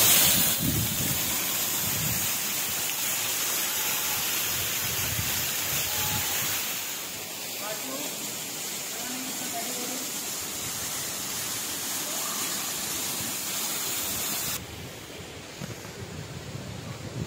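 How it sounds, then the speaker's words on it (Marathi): A waterfall near Bhavali dam at Igatpuri pours out a steady, broad rushing roar that fills the whole stretch without a break, with no voices over it. "तर हे बघा माझ्या पाठीमागे हा धबधबा आहे"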